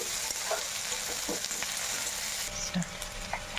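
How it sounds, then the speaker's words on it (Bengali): Diced onions fry in a pan with a steady, soft sizzle and occasional light crackles and stirring taps, quiet and close. "পেঁয়াজটা একটু লাল লাল করে ভেজে নেব"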